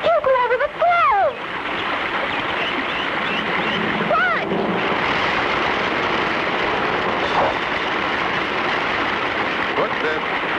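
Rushing river rapids in a 1959-60 cartoon, a broad steady roar of churning water carried at constant loudness throughout, with a few brief whistling tones near the start while a narrator speaks over it.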